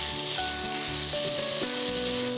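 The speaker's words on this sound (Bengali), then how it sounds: "একটু ভেজে নিব ভালো" Ingredients for Afghan beans pulao frying in a pan, a continuous soft sizzle and hiss heard close, with steady tonal background music running beneath and no speech.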